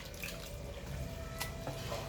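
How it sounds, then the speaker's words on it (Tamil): Tamarind water is poured onto rinsed flattened rice for aval upma, a faint, steady trickling splash with a few small drips and clinks, quiet and with no talk. "இந்த புளி தண்ணியை இப்போ நம்ம ஒரு அளவுக்கு ஊற்றி பிணைஞ்சி பார்க்கணும்."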